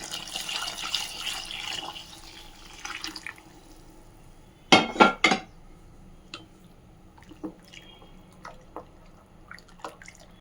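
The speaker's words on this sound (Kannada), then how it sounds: "ತರಕಾರಿ ಬೇಯಿಸಿರೋ ನೀರು ಹಾಕ್ತಾಯಿದ್ದೀನಿ" Vegetable cooking water goes into a pot of village-style mixed vegetable bassaru: a soft hiss at first, then a short loud splashing pour, followed by faint scattered drips.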